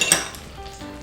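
A lid comes off a pot of chicken soup with lily and pomelo that has been simmering on low heat for half an hour, giving a brief metallic clink at the start followed by a soft steady hiss.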